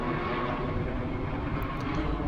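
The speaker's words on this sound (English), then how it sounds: "there's a lot of helicopter activity going on today." Helicopters passing over London on a Sunday, a steady loud rotor and engine drone that fills the short stretch without pause and with no voices.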